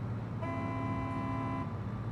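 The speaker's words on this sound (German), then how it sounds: "Die Hupe passt überhaupt nicht." A truck horn honks once in the Bau Simulator 2022 construction game, a steady, loud tonal blast lasting a little over a second over a continuous low engine rumble.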